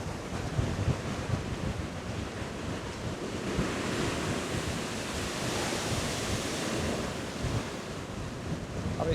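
Storm waves surge and crash against the Dawlish sea wall in a continuous loud roar of surf, with gusty wind buffeting the microphone throughout.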